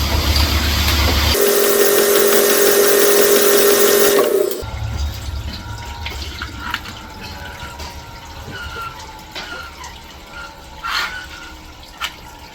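A drill-driven hone with 70 grit stones working inside a 5.7 Hemi engine cylinder gives a loud, steady whine for about three seconds, then cuts off, leaving quieter clatter and scraping.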